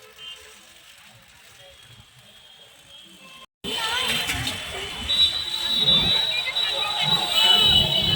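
A crowded street near Prem Mandir in Vrindavan, packed like a pilgrimage procession, cuts in after a quiet stretch as a dense, lively hubbub of voices, traffic and movement that keeps building.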